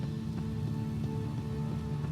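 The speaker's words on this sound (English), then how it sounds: "it is raining outside" Steady rain falls outside in The Witcher 3, a constant pattering wash with scattered louder drops, moderately loud, with no voices over it.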